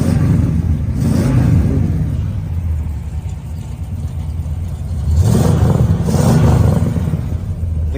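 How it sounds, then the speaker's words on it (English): The engine of a restored muscle car revs twice, with two strong swells of deep, throaty rumble separated by a lower idle. It is close and loud, with no talking. "The car just sounds great."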